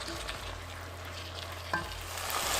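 Onion, tomato, Anaheim pepper and garlic cook together in a pan for soup, giving a steady close sizzle and fry with a brief stirring scrape partway through and no voices.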